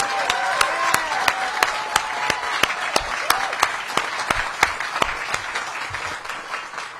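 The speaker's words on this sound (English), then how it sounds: "let's give the person who has led the comeback a round of applause" Audience applause for Mayor Muriel Bowser at a small-business grant event, loud crisp claps in a fast steady rhythm over a wash of crowd clapping, with brief whistles or cheers near the start.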